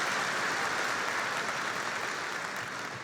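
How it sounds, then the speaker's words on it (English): An audience at an afternoon commencement ceremony claps steadily, a dense even wash of applause that holds throughout and eases off slightly at the end. "Please join me in a round of applause for them."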